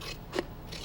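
Scissors cut through paper up close, a few faint crisp snips with a single sharper cut in the middle, quiet against a soft background.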